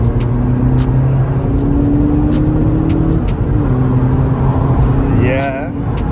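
A VW Polo GTI with a 1.8 litre engine revving, a loud, steady engine drone with shifting tones dominating throughout, while people talk over it.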